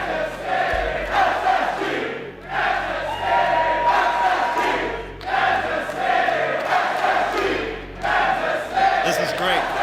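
A large arena crowd at the Rocket League World Championship esports event roars and cheers continuously, swelling in loud waves with brief dips between surges.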